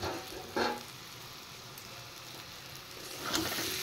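Yam and taro being stir-fried with spices in a pan for a prawn curry, a steady soft sizzle throughout with a couple of louder stirring scrapes near the start and end.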